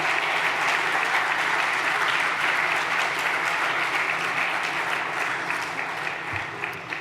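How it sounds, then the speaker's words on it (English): Class Day lecture audience giving a round of applause for family and friends, a loud, full, continuous wash of clapping from a large crowd that fades slightly at the end. "let's give them a round of applause"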